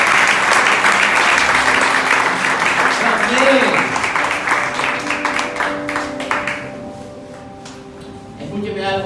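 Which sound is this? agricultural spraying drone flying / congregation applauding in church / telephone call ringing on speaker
congregation applauding in church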